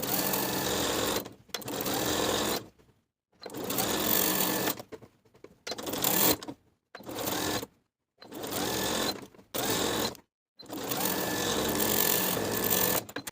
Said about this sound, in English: sewing the facing to the seam allowance all the way around with about 1/8 of an inch seam allowance